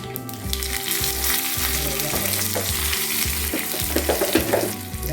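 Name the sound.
tempering curry leaves, dried chillies and mustard seeds in oil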